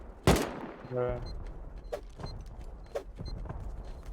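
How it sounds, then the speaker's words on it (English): Distant explosions and gunfire during a Rust video game 5v5 base-raiding tournament: one sharp loud blast near the start, followed by scattered fainter pops and booms at irregular intervals, with a brief voice-like tonal sound early on. "I hear a lot of explosions in the distance"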